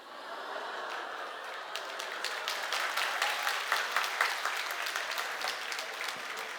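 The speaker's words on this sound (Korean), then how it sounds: "박수 치지 말아요" Applause from a church congregation during an evening worship service, a steady dense wash of clapping that swells slightly in the middle and holds for the whole stretch, with no talking over it.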